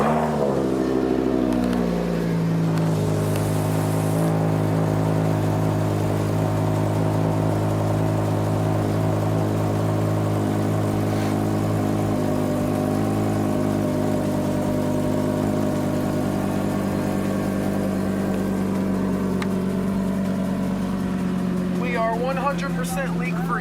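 A car straight-piped with a G35 downpipe and a muffler delete runs on its first start, holding a steady, deep droning idle for over twenty seconds, with a brief flutter near the end.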